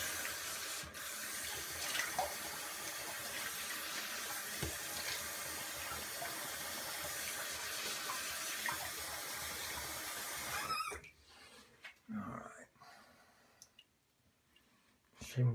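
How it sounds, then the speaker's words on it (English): A tap runs steadily while someone rinses during a shave, giving a continuous close hiss of water that stops abruptly, followed by quieter clicks and faint handling sounds. "I'm gonna rinse and then we'll do a touch up."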